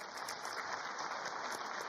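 Audience applause greets the invitation of a guest onto the stage at a Times of India felicitation event, a faint, steady wash of distant clapping that runs briefly without pause.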